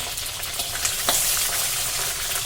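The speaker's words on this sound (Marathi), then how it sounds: "मिरच्या चांगल्या पांढऱ्या होईपर्यंत परतून घ्यायचा आहे गॅस मात्र मंद केलेला आहे" Green chilies, curry leaves, mustard seeds and cumin sauté in a pan over low heat, giving a steady, close sizzle with a few brief crackles and pops and no talking.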